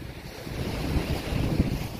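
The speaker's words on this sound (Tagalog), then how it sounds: "Grabe yung alon ng dagat." Rough sea waves surge and roar during a typhoon on a coastal shore in Ragay, a steady churning wash mixed with gusty wind buffeting the microphone, nearby and moderately loud, with no talking.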